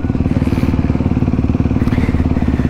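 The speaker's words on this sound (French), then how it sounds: "Faut vraiment emmener la moto dans les tours." Close, loud motorcycle engine at steady high revs while riding a home race course, a dense continuous drone with rapid pulsing firing rhythm throughout, no talk.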